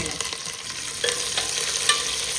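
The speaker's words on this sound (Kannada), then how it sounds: "ಈರುಳ್ಳಿ ಸ್ವಲ್ಪ ಫ್ರೈ ಆಗಲಿ ತುಂಬ ಬೇಯಲಿಕ್ಕಿಲ್ಲ ಜಸ್ಟ್ ಸ್ವಲ್ಪ ಒಗ್ಗರಣೆಯಲ್ಲಿ ಮಿಕ್ಸ್ ಆಗಲಿ" Onion, crushed garlic, dried chili and curry leaves fry in a hot tempering, giving a steady close sizzle with light stirring scrapes and a couple of brief spatters.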